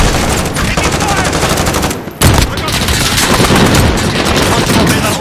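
Gunfire in a first-person shooter: dense, loud bursts of rapid automatic shots rattle almost continuously, with a brief gap near the middle before the firing resumes just as hard.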